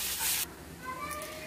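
Mustard seeds, asafoetida, curry leaves and red chillies hit hot oil for a sambar tempering, giving a loud sizzling burst that soon settles into a softer hiss with a faint voice in the background.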